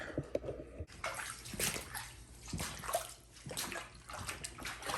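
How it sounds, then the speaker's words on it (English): Water sloshes and splashes in a flooded basement as a pump is set into it, irregular close gurgling bursts with an abrupt start near the beginning. "you can set that on the water and pump it out"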